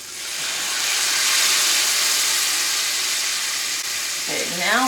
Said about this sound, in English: Already have some dairy, but we're going to put cream in it.